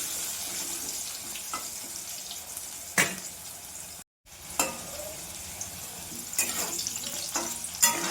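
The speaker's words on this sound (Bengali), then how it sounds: "আলু ভাজা হয়ে গেছে" Potatoes sizzle in hot oil with salt and turmeric in a kadai. The frying hiss runs continuously throughout, with sharp crackles and a short gap in the middle.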